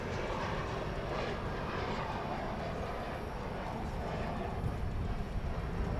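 An airliner lands at DFW Airport at night, a broad, steady jet rumble with no clear peak, muffled by wind on the microphone.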